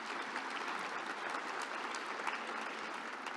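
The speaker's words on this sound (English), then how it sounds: "I think he deserves a round of our applause." Audience applause at a women of influence awards luncheon following a saxophone performance, a steady wash of crowd clapping heard from a distance, moderately faint and without talk.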